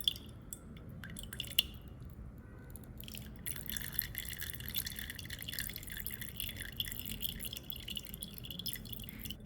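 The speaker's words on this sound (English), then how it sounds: "she strains it through a sieve, adds a thin cloth, and gently squeezes the oil out evenly" Clove oil dripping through a thin cloth as it is gently squeezed after straining through a sieve: faint, close, irregular drips and soft wet squishes over a quiet background, with no talking.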